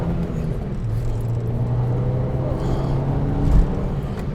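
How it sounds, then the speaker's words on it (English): A Mitsubishi Colt Ralliart Version-R engine drones and rises steadily with a throaty intake hum, growing slightly louder toward the end; no talking. "It's all intake noise at the front."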